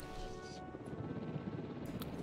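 Helicopter rotor drone from the video game Jurassic World Evolution, a steady low throbbing hum that fills the whole clip at even loudness, with no voices over it.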